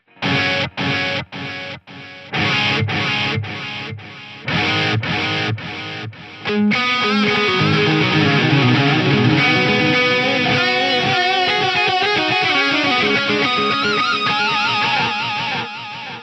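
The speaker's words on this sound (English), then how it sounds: "Another thing you can do with delays, combine them with a panner." Distorted guitar chords played through a Lexicon MPX-1 delay paired with a panner: a run of choppy, evenly spaced stabs gives way to a dense, sustained wash of repeating echoes that swirl and trail off, with no talking.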